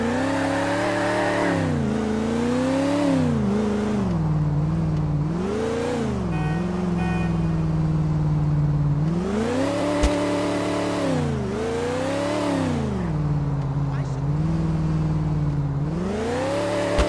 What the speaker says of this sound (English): when my charger engine don't sound like this